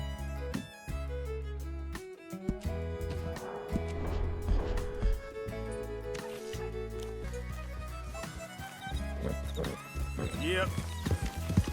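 A Missouri Fox Trotter horse in the video game Red Dead Redemption 2 makes clip-clopping hoofbeats and whinnies. These sit within a busy mix of game music and effects, fairly loud throughout.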